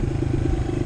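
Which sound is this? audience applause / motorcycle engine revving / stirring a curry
motorcycle engine revving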